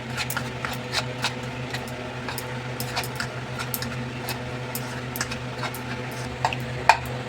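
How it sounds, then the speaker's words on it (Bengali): A spoon stirs white oil into wheat flour dough for biscuits, giving soft, steady scraping and light clicks against a bowl, close and alone over a low background hum. "এর মধ্যে দু চামচ মতন সাদা তেল দিয়ে দেবো দিয়ে এটা মিশিয়ে নেব"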